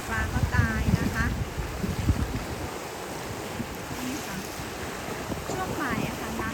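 Sea waves wash in at Pattaya beach under steady wind buffeting the microphone. The surf sounds like a continuous rushing hiss, and a voice talks briefly over it near the start and end.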